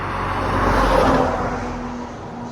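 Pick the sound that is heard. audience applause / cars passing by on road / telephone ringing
cars passing by on road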